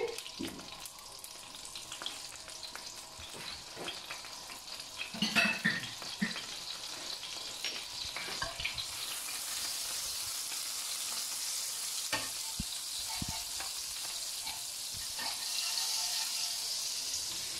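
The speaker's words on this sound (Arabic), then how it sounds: "Ya tengo el sartén caliente. Me voy a echar mantequilla con aceite." Butter and oil sizzle in a hot frying pan, a steady crackling hiss that sharpens and grows louder partway through, with occasional clinks of a utensil.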